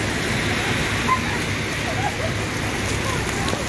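Heavy rain pours down in Bangkok during the rainy season, a steady, dense wash of hiss that fills the scene evenly with no clear breaks.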